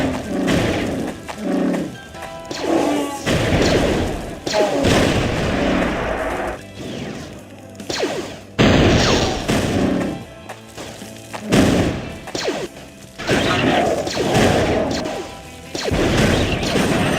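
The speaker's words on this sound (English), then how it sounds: "that's the Trade Federation cannon right there" Trade Federation cannon fire in Star Wars Galactic Battlegrounds, long-range artillery blasts and crashing impacts repeating in heavy bursts amid continuous battle noise, loud and dense, no talk.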